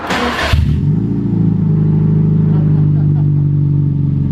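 A Subaru Impreza STI engine with no exhaust fitted fires up with a harsh burst, then settles into a loud, raw, unmuffled roar that revs and holds steady close by.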